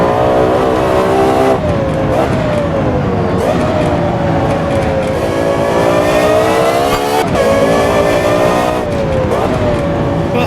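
Loud, close engine note from a Lexus LFA revving hard, climbing and falling repeatedly in a sustained howl with short dips between pulls.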